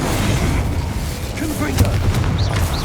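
An Incendio fire spell cast in Hogwarts Legacy, a dense whooshing, rumbling burst of magical fire amid continuous loud game combat effects and music, with short bright tones layered on top.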